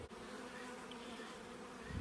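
Honeybees hum steadily at an open hive in a bee yard, a close, continuous low drone with no talking.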